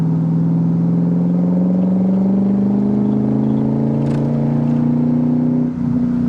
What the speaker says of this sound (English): When you're up in the RPMs there, the exhaust sounds good.